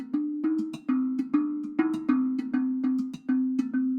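A tongue drum hit with a mallet, heard as a resonant choked sample from the Audiobro Silver library: a quick, evenly spaced run of bright, metallic, bell-like strikes, each short and damped, played alone.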